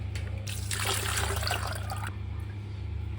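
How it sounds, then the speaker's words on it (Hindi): Water is poured over tamarind and plums sitting in a strainer, a short splashing rush that swells and then cuts off, over a low steady background hum. "अब पानी ऊपर डाल देंगे।"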